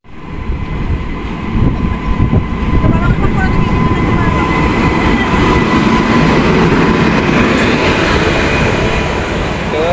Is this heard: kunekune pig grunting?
no